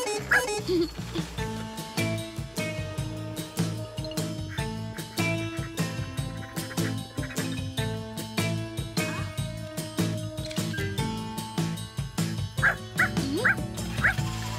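A cartoon dog in a French children's animated detective show gives a string of short yips and bow-wow barks over a busy, bouncy music score, repeating in quick bursts throughout.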